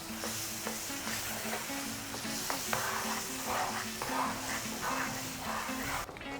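Potatoes being stirred through a thick mango puree curry in a pan for sweet-and-sour aloo, a steady sizzle with repeated scraping strokes under faint background music, no talking.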